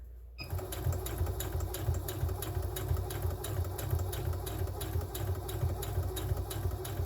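A sewing machine runs steadily, stitching a small seam allowance on decorative party bunting after pivoting at a point, its fast rhythmic needle chatter continuous and close after a brief quiet start.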